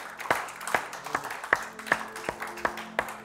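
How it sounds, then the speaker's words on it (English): A church congregation giving a hand clap in praise, with a sparse scattering of distinct individual claps from a few people, fairly close and irregular, sounding alone without talk. "Give the Lord a big hand clap"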